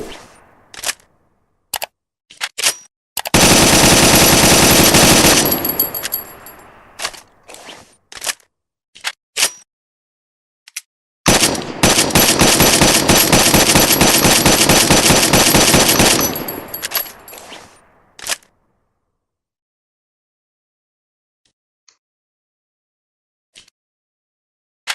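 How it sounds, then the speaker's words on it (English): An M14 rifle fires in two long, loud sustained bursts, separated and followed by scattered single sharp shots, with no talking. "This is the M14 rifle"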